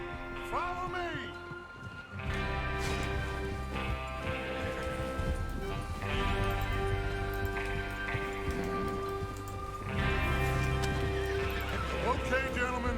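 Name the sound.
horses neighing and hooves, from video game Red Dead Redemption 2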